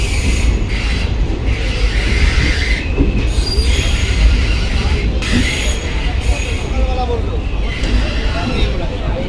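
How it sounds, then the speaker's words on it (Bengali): A train pulls into New Jalpaiguri station with loud screeching wheels and rumbling carriages that carry on throughout, and voices can be heard underneath. "ট্রেন চলে আসলো নিউ জলপাইগুড়ি, নির্ধারিত সময় থেকে 8 মিনিট পেছনে।"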